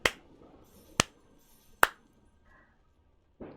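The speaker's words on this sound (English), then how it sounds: "Slow clap." Four sharp, isolated claps spaced about a second apart, a slow deliberate rhythm close to the listener with quiet gaps between them.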